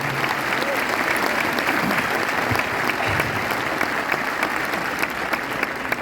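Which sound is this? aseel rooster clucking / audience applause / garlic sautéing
audience applause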